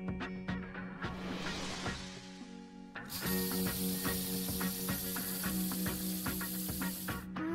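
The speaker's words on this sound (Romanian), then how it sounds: "Să curățăm rana cu spray-ul." A cartoon spray bottle hisses as it cleans a wound, with a short burst followed by a longer bright spray over faint background music.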